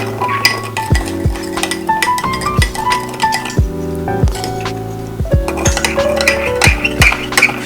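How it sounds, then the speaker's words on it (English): A utensil stirs tuna tataki sauce ingredients in a bowl, clinking sharply and repeatedly against the side in a quick, steady rhythm, close and fairly loud with ringing tones. "Now we're gonna mix all these ingredients nicely so that everything mixes together"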